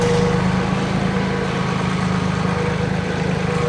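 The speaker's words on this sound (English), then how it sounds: "I'm going to pull the tractor away" A tractor engine runs with a steady low rumble and faint whine, close and continuous, without clear change in pitch.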